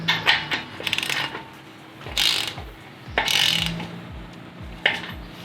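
Repeated mechanical ratcheting clicks as an engine's crankshaft rotating assembly is turned by hand, in several bursts with short pauses, close and fairly loud, no talking.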